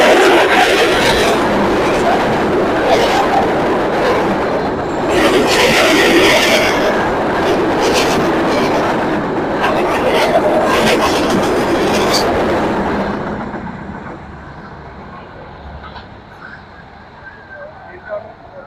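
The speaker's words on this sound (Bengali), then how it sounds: "ঢাকা থেকে ছেড়ে আসা পঞ্চগড়গামী একতা এক্সপ্রেস ট্রেনটি" The Ekota Express, bound for Panchagarh from Dhaka, rumbles through Basudebpur railway station in Natore, a dense, steady roar of wheels and carriages that fades into quieter ambience with faint birds near the end.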